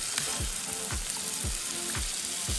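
Chili with tomato paste being stirred in a pot, a bubbling sizzle under regular rhythmic scraping strokes of a spoon, close and alone.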